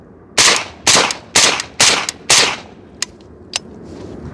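Five evenly spaced suppressed shots from an AK Draco pistol in 7.62x39 crack sharply up close, each followed by a short decay, then two fainter clicks.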